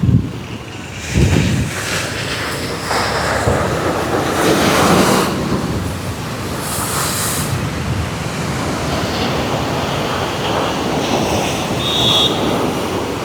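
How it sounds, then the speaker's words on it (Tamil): Sea waves surge against the eroding shoreline of Kalmunai beach in Ampara, a continuous close wash of surf mixed with gusty wind buffeting the microphone, no talking. "அலை அடித்து கொண்டிருக்கு."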